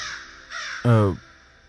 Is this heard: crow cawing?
yes